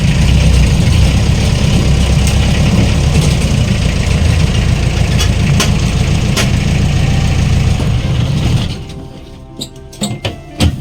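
A used Jeep's engine idles with a steady, loud, low rumble and a rhythmic tuk-tuk beat, then cuts out near the end, leaving a few faint knocks and clicks.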